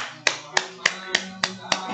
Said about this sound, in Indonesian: Aplaus itu biasanya orang memberikan tepuk tangan